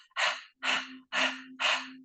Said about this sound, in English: So we'll just pant like a dog, first of all.